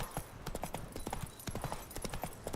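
Hooves of Geralt's horse Roach in The Witcher 3 beat a steady, close clip-clop rhythm, quick paired strikes repeating without pause.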